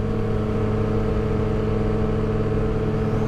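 A steady, droning 2022 Yamaha XSR900 motorcycle engine with a full exhaust runs continuously at a constant speed, its deep exhaust hum loud and close with no voices.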